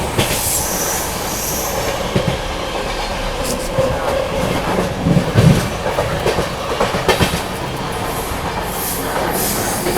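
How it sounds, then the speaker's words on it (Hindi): A train runs at speed through Mirzapur railway station, heard from aboard as a loud, steady rumble with rhythmic clickety-clack of wheels over rail joints and occasional high wheel squeals, with no voices. "अभी अपनी ट्रेन स्किप करने जा रही है मिर्ज़ापुर रेलवे स्टेशन।"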